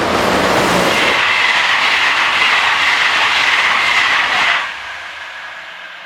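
Locomotive 26013 hauls a passenger train through Chateau Gaillard station in France, a loud rushing roar with rolling wheel rumble that holds steady, then drops away abruptly as the train clears.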